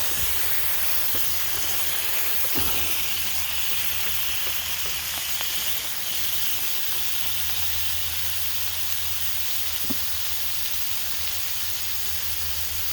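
Smash burgers cooking on a Lodge cast iron griddle over a Martin stove, a soft continuous hiss and sizzle at moderate distance with a couple of faint clicks, no voices.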